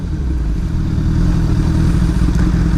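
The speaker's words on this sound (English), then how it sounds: "just a quick blip." A motorcycle engine idles steadily and close by at a low rumble, with a faint lift in revs from a quick throttle blip while first gear is clicked down.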